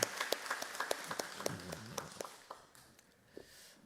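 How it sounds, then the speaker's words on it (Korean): A church congregation claps for the worship team after the singing at a Sunday evening service, scattered applause that thins out and fades, ending in near quiet with a few last claps. "우리 귀한 찬양 인도한 우리 찬양단 위하여서 격려 박수하도록 하겠습니다."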